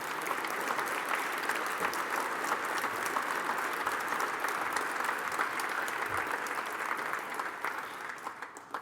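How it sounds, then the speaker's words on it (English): Sustained applause from an audience at a World Cup event in Toronto, dense and steady for several seconds before thinning out at the end. "If you could give him a round of applause"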